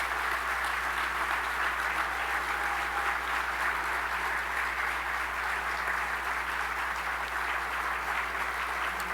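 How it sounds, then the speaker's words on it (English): Sustained applause from an audience at a college charter award dinner, a steady dense wash of clapping that holds evenly from start to finish without letting up. "So let's give a round of applause for all the"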